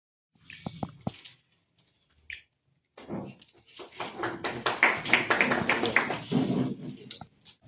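People clap at a memorial gathering: a few isolated claps come first, followed after a short pause by a fuller round of applause that swells and then tapers off, somewhat distant and faint.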